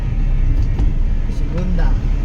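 A car engine labors as it climbs a slope in first gear, a steady close rumble of road noise and motor throughout, with a person talking over it.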